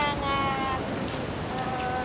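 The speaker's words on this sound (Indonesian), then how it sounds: "lihat ombak yang ada di belakang saya, besar sekali" Big ocean waves breaking on the shore, a dense continuous roar of surf mixed with wind buffeting the microphone, loud and close, with a voice briefly rising over it.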